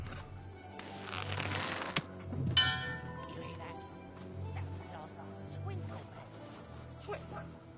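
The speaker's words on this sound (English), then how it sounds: "Twinkle bells?" Twinkling chimes ring out in The Lost Legends of Redwall video game, a bright shimmering burst followed by a second run, set over soft background music with someone talking throughout.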